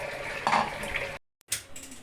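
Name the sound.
water being added to haleem cooking pot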